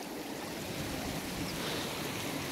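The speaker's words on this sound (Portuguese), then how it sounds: "Olha onde que vai escorrendo água por todo canto." Water flows through an ancient Inca irrigation canal at a water temple, a steady rushing hiss with no breaks, moderately loud and close, and no one speaking.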